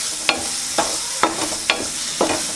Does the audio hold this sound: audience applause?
no